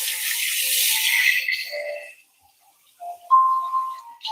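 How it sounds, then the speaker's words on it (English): Running tap water streams over meat being rinsed in a kitchen sink, a loud hissing flow for the first two seconds, then a pause and a brief renewed splash with a faint clatter. "let me rinse this"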